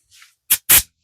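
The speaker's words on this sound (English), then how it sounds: "get a little canned air on this" Canned air blasts onto a green Vibroplex telegraph key in two short, close hissing bursts after a faint soft puff.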